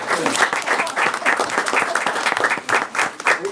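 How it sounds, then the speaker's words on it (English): Audience at a school board meeting breaking into applause for a standing family, a continuous patter of many hands clapping nearby, with some voices mixed into the crowd. "Let's give them a round of applause."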